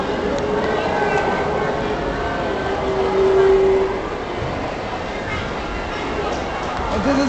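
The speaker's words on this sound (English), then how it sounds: "Oh, here comes the train!" A Southern Pacific model train rumbles along its track nearby at a science museum with a steady clatter, while voices chatter in the background.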